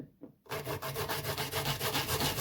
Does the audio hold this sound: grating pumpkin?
yes